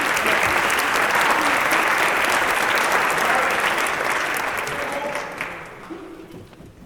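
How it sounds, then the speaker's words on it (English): A crowd at a high school Shark Tank event breaks into loud, steady applause that fills the room for several seconds before thinning out and fading toward the end. "please give a big round of applause for our next group."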